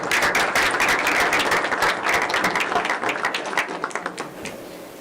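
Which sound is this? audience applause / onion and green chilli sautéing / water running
audience applause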